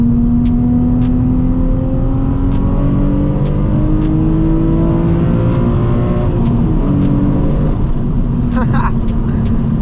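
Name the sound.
Nissan 350z HR engine accelerating loudly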